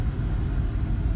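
A 1999 Chevrolet Blazer S10 4x4 with a 4.3 V6 on a test ride, heard as a steady low engine and road rumble from inside the moving SUV, without speech.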